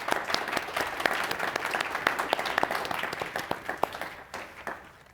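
A panel discussion audience applauds steadily, many hands clapping in a dense patter that gradually thins out toward the end.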